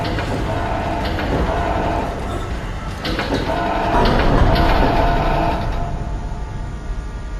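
A tram car pulls in on the space station of the Dead Space game, a heavy rumbling rail roll with metallic clanks and screeching, swelling louder midway, then settling.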